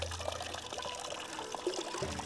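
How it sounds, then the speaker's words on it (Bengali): Clear mountain spring water spills from a snake-shaped spout with a head on a snake-filled hillside in Japan, a quiet, steady pour and trickle heard close up, with small splashes throughout. "পানিটা পড়তেছে"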